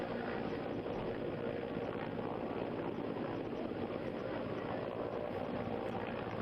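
An Air Force rescue helicopter hovering over the flooded Tawi River in Jammu, near an under-construction dam: a dense, continuous rotor and engine roar that holds steady and loud throughout, with no voices.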